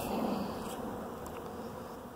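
Honeybees swarm around hives in a bee yard, where a nuke colony may be getting robbed out. A steady, dense buzzing of many wings fills the air close by, with no voices.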